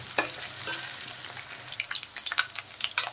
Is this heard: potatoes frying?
yes